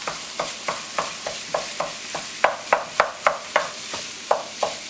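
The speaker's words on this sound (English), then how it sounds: "We're going to add our turkey right to the pan and go ahead and break it up." Ground turkey being broken up with a utensil in a pan of frying onion for tacos: a steady run of sharp scraping stirs, roughly two or three a second, over a soft continuous sizzle, close and fairly loud.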